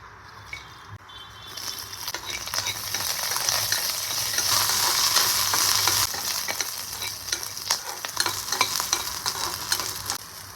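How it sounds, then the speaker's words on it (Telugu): Green chillies and garlic fry lightly in a little oil with a continuous sizzle that swells in the middle, while a spoon stirs and scrapes the pan in repeated strokes. "ఈ ఇంగ్రీడియంట్స్ అన్నీ ఆయిల్లో మనం లైట్ ఫ్రై చేసుకోవాలండి."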